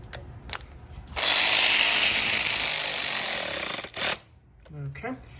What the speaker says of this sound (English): we're gonna go ahead and tighten up that 10mm bolt for the clamp